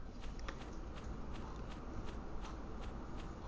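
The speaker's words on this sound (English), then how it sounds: "things that rustle are rustling and running away" Rustling of fleeing bugs in the video game Bugs & Butterflies: a soft, steady bed of noise broken by a quick series of light, crisp rustles at a regular pace, like small creatures scurrying through leaves.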